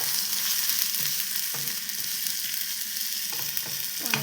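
Potatoes, okra and paneer sizzle steadily in a pan, a close, continuous frying hiss broken by occasional stirring scrapes and clinks of a utensil.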